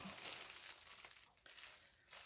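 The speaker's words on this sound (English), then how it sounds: "I am cutting the finished end that holds the bag together" Close crinkling and crackling of plastic being cut, a steady rustle with a few brief tearing snips, no voices.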